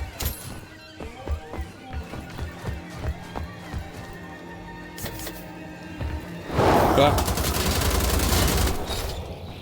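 Enemy machine gun fire in Wolfenstein: The Old Blood comes as a quick series of sharp shots, building to a louder, denser sustained burst near the end.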